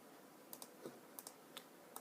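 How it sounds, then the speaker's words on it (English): F8 key tapped on a computer keyboard while modeling in Maya: several quiet, sharp clicks spaced about every half second, faint against a low background hiss. "tap on F8 once,"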